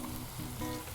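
A burger patty on a hot griddle, seasoned with salt and black pepper, sizzles loudly and steadily as it is flipped, with a continuous close-up frying hiss and no talking.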